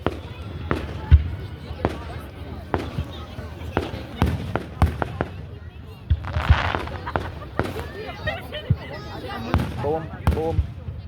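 Fireworks burst at an outdoor Canada Day town display, a steady run of sharp booms and crackles rolling out over roughly eleven seconds, some loud and near, with crowd voices murmuring underneath.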